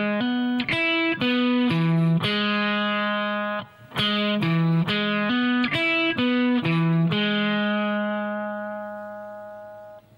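An eight-note electric guitar phrase played with hammer-ons through tuner-style effects and distortion, each note ringing clearly and evenly before the line repeats, the last note sustaining and fading alone.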